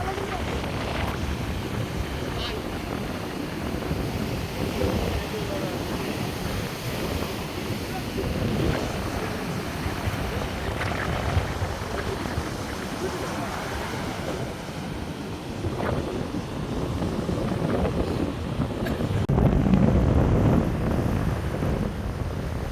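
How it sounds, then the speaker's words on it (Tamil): Sea waves crash onto a beach in the early morning, a continuous rolling roar of surf that swells and breaks, buffeted by gusty wind on the microphone, while someone talks over it. "கடல் இந்த தான் பாருங்க எப்படி அடித்து வருதுன்னு"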